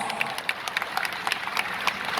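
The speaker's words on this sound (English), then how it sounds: "Can we give him a big round of applause?" Audience applause for the Ooni of Ife at a birthday celebration, a moderate, even crackle of many hands clapping heard from a distance.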